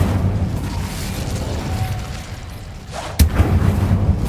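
An Incendio fire spell cast in Hogwarts Legacy, a rumbling whoosh under the game's ambience with one sharp burst near the end followed by a low crackling roar.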